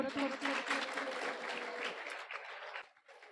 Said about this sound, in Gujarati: આપણે એમનું તાળીઓથી સ્વાગત કરશું